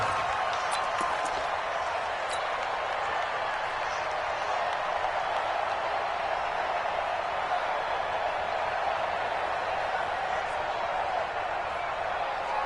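Stadium crowd noise in a PS4 American football game, the Falcons offense at the line after back-to-back punts: a steady, dense roar of many voices with scattered applause, holding at an even level throughout with no lulls.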